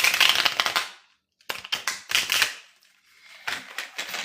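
Tarot cards being shuffled by hand in three quick rustling, riffling bursts separated by short pauses, close and crisp, with no talking.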